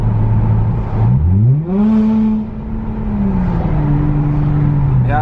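Engine of a 2019 Chrysler 300 drones steadily, then dips and climbs in pitch as it revs up with a brief hesitation, loud and close, before settling back down.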